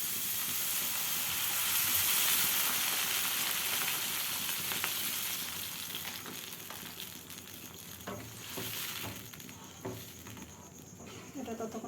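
Water goes into lightly fried sweet corn soup and a loud hiss of sizzling follows, fading into softer bubbling and crackling with scattered small knocks.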